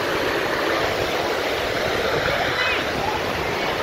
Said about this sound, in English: the waves just started